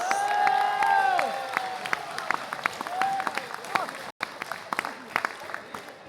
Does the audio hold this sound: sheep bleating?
no